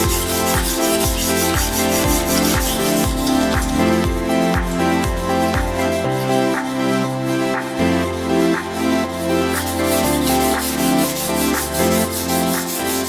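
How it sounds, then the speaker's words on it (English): A kitchen knife is drawn across a whetstone in regular back-and-forth strokes, producing close, continuous gritty scraping with a steady rhythm throughout. "As I'm sharpening, I want to make sure that the chips are going away."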